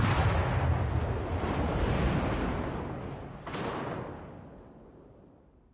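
Warship artillery in World of Warships booms in a heavy roaring blast that decays slowly, then a second sharp salvo follows around midway and fades into rumble.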